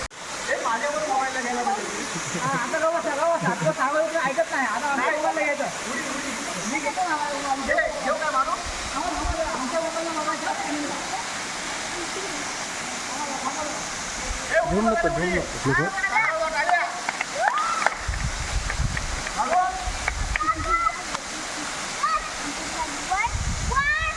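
A waterfall in the hidden, wooded countryside near Mandangad pours with a constant roar of rushing water, while people talk and shout over it throughout.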